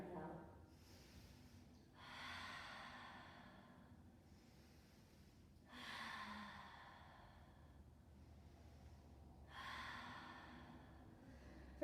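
Slow yoga breathing: three long, soft exhalations through the nose, evenly spaced several seconds apart, faint and close over quiet room tone.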